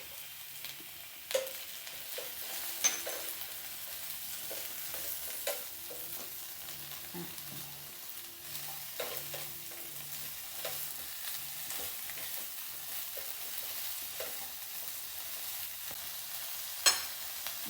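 Paneer fries and is stirred in a pan for restaurant-style chilli paneer, giving a faint, steady sizzle. Soft scraping stir strokes and occasional light clinks of the utensil come at irregular intervals.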